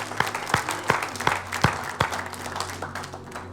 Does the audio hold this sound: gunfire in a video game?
no